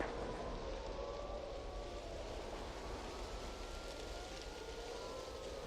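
Wailing sirens fill a chaotic Resident Evil city scene, rising and falling steadily over a dense, constant wash of ambient noise for the whole stretch.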